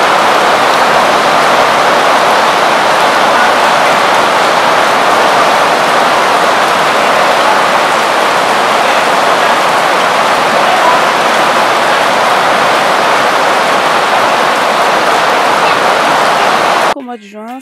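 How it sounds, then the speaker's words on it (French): Steady, dense rain falls during the small rainy season in Yaoundé, making a constant hiss that is loud and close. It cuts off abruptly at the end. "Juin, c'est la petite saison de pluie, donc ce fut le seul jour au fait qu'on a pu voir de la pluie"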